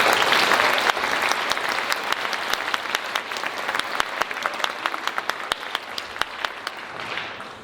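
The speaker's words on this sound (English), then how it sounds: "Give him one more round of applause." A concert audience applauds a brass band cornet soloist at a high school holiday performance, dense sustained clapping with a few sharp individual claps standing out, tapering slightly near the end.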